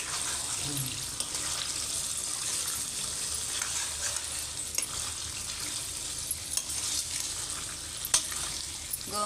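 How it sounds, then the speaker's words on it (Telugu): Gongura chicken gravy stirred in a pan, giving a steady sizzle with scraping and light clinks of the spoon, moderately close and continuous. "మనకు అడుగు అంటకుండా కలుపుతున్నామండి గోంగూర వేసినందుకు మనకు అంటకుండా"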